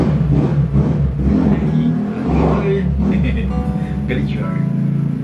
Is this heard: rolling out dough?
no